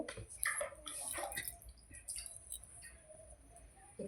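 Water runs from a tap while hands are washed at home, a soft steady flow with scattered splashes and drips, fairly quiet and close, with faint chirps in the background.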